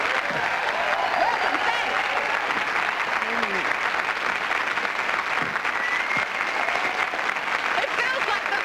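A live studio audience on a 1998 television show claps steadily throughout, with a presenter's voice speaking briefly over the applause.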